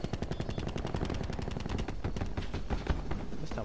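Rapid DMR rifle fire in Call of Duty: Black Ops 4, a dense, relentless string of loud close shots in quick bursts that continues almost without pause.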